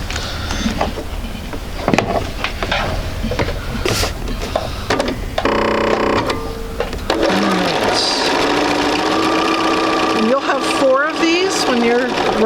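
Sewing machine stitching a quarter-inch seam on quilt pieces, a close whirring run of stitches that starts and stops in short bursts, then runs steadily while a person talks over it.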